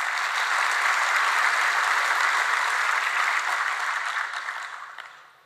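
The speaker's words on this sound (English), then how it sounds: "Give them a round of applause." Steady applause from a conference plenary audience, a dense wash of clapping held evenly for several seconds before fading out at the end.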